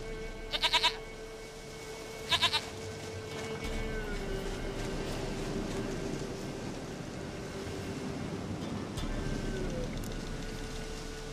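A goat in the video game The Witcher 3: Wild Hunt bleats twice in quick wavering bursts a couple of seconds apart. Steady ambient game noise and a low hum continue underneath.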